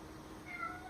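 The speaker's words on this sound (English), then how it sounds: "Just let me let my cat in." A domestic cat gives a single short, faint meow over a quiet indoor background.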